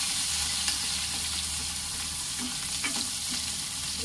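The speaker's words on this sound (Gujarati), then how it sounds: "તો આપણે સુધારીને ડુંગળી રાખી હતી એ આપણે એડ કરી દેવાની છે। આપણે બધું સારી રીતે મિક્સ કરી લેશું।" Chopped onions sizzle steadily in a hot pan for Gujarati-style garlic potatoes, with occasional scraping stirs heard close by over a constant frying hiss.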